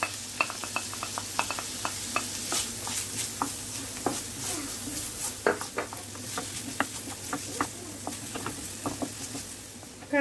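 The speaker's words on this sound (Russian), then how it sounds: "И теперь буду обжаривать лук с шампиньонами." Onions and champignon mushrooms fry in oil in a skillet, a steady close sizzle broken by frequent sharp clicks and scrapes of stirring against the pan, with no talking.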